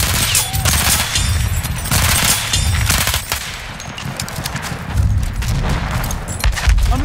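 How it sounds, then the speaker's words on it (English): Heavy machine gun fire in the Battlefield 1 video game, loud and dense bursts rattling continuously with booming low thumps mixed in, close and unbroken throughout. "Machine gun! Hostile!"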